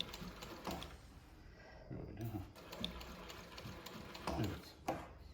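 Vinlex VX-1530-DD zigzag leather sewing machine running, a quiet mechanical whir with irregular clicks and bursts of stitching, fairly faint and close.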